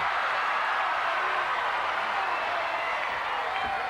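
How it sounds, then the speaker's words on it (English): A dense, roaring capacity crowd at a wrestling match fills the arena with steady, unbroken noise, the count not clearly distinguishable within the wash of sound. "As we hear this capacity crowd picking up the count"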